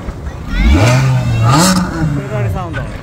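A Ferrari 360 supercar engine revs up and falls back in a rising and dipping roar, close and loud, with people talking around it at a supercar gathering.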